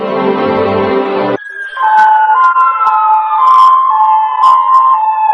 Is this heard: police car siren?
yes